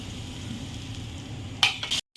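Tilapia fries in hot oil in a pan, a steady low sizzle that flares louder with a few bright crackles and pops near the end before cutting out.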